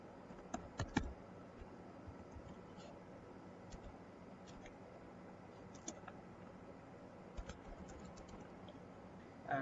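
Keystrokes on a computer keyboard while code is written into Google Earth Engine, scattered soft clicks in uneven bursts over a low steady room hum, with a sharper clack near the end.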